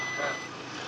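A vehicle backing up and turning around in a tight village spot beside a buffalo shed gives off a loud, close electronic reverse beep that holds steady and sounds by itself with nobody talking.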